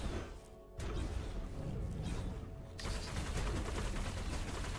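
Heavy gunfire from powerful guns in the Soulbound Online video game during a dungeon boss fight, a dense continuous barrage that swells louder after a brief lull, with no voices.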